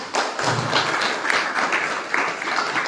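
Applause at a book launch ceremony: a steady patter of many hands clapping at moderate distance in an indoor hall, sustained evenly with a few louder thumps, no talk over it.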